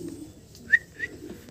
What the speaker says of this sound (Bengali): লং ফেস কবুতর